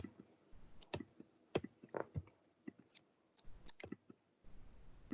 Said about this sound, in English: Sometimes you're going to need to double click it and then right click and copy